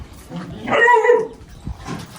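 A dog close by gives a short whining, yelping bark that rises for about half a second, with faint voices and low background noise around it.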